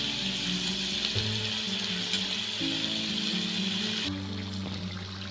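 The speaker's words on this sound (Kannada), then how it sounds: "ಗೋಲ್ಡನ್ ಬ್ರೌನ್ ಬರೋ ತನಕ ನಾವು ಎಣ್ಣೆ ಒಳಗೆ ಫ್ರೈ ಮಾಡ್ಕೋಬೇಕು" Flower samosas deep-fry in hot oil, with a loud, continuous bubbling sizzle that shifts slightly as they are moved. It is heard up close, with no talking.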